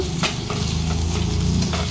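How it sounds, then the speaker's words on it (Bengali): Onion with green chillies and ginger-garlic paste fries in a pan, making a close, continuous sizzle broken by brisk scraping stir strokes. "এবার প্রত্যেক কটা জিনিস একটু ভালো করে আবারও একটুখানি ভেজে নেব।"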